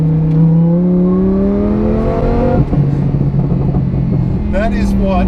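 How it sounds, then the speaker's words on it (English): Supercharged Lamborghini Huracan with over 800 horsepower, its engine revving hard at full throttle with a rising harmonic wail and supercharger whine that climbs, drops after a gear change and builds again, loud and close with people talking over it. "That is what 800 plus horsepower sounds like."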